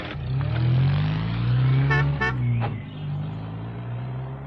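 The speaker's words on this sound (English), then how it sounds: "Sam Waldron drove through in his mobile shop, tooting his horn" Sam Waldron's mobile shop van rolls past with a steady engine drone, giving two or three short toots of its horn midway before the motor fades off.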